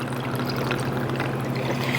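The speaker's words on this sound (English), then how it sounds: "you're going to do 2 ounces of the orange juice and pineapple." Orange and pineapple juice poured into a Hurricane cocktail, a soft steady liquid stream for about two seconds, close and quiet.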